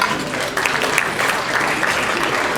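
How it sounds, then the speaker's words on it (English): An audience at a Knight Frank anniversary celebration party applauds graduates, a dense, loud wash of many hands clapping that holds steady for a few seconds. "That's worthy of applause, I think."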